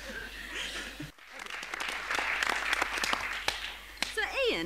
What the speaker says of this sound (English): That was an amazing clap, Frank